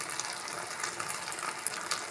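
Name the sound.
water being added to the pan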